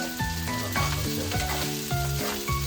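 Garlic rice made from leftover cooked rice sizzles and fries in a pan while a utensil scrapes and stirs it in a steady, repeated rhythm, loud and close, with no talking.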